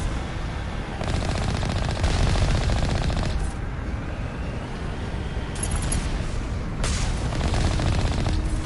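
A heavy turret in Mass Effect lets off loud, sustained automatic fire, a dense rapid rattle that swells and eases in waves across the whole stretch, with no talking.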